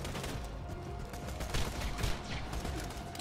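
Continuous bursts of gunfire come from a gun in the video game Borderlands 2, forming a dense, busy barrage with overlapping shots and game noise throughout.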